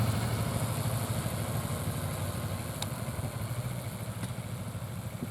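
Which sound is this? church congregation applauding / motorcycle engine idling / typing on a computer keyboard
motorcycle engine idling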